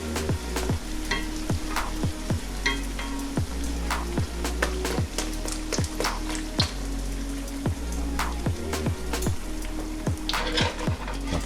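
Elk nachos deep frying in hot oil, a dense close crackle and bubbling with regular sharp metallic taps of a utensil against the pot, loud and steady with no speech.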